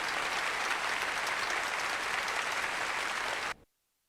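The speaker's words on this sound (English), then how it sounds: "that clapping is loud" Dense, loud applause from a large crowd in the video game Yakuza: Like a Dragon fills the air without pause, then cuts off abruptly into silence.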